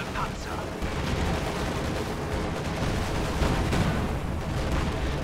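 Artillery fire in the video game Company of Heroes 2 during a large armor battle, heard as a dense, continuous roar of booms and gunfire at steady loudness, with no gaps.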